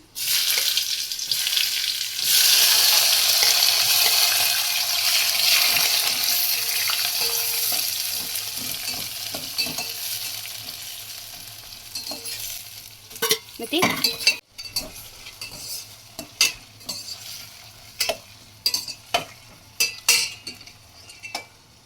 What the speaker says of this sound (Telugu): ఆయిల్ కాగిపోయింది, ఇవన్నీ ఇందులో వేసుకుందాం. ఆనియన్స్, పచ్చిమిర్చి వేసుకుందాం.